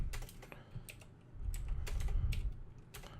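Someone types on a computer keyboard close up, with quick bursts of sharp clicking keystrokes that swell in density toward the middle and then thin out.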